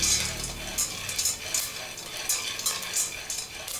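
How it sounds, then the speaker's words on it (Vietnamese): Popcorn pops in a pan being stirred, sharp scattered bursts and clinks coming irregularly over a soft frying hiss, close and moderately quiet. "Đó, bắt đầu nổ nhiều rồi đó bạn ơi."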